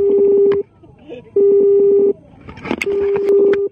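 Dial tones from a phone accidentally pocket dialed while connected to Bluetooth, sounding in three long steady beeps, each lasting under a second and separated by short gaps, loud and close, with some rustling and background noise in between.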